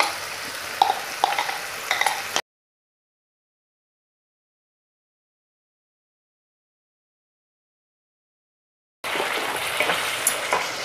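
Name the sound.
onion, garam masala and tomato paste frying in oil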